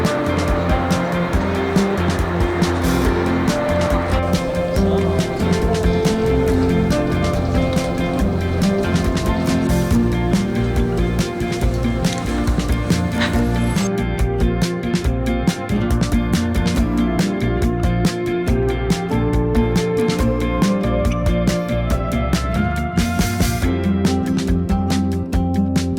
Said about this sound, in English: We are now driving on the ice.